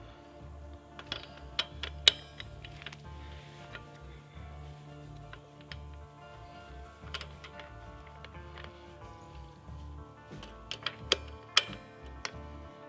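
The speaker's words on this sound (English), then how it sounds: "Put our nut back into the hole that holds the caliper on." A metal nut is threaded back onto the caliper bolt of a Coleman BT200X mini bike, giving a series of small irregular clicks and ticks of metal on metal, close up and fairly quiet, with no talk.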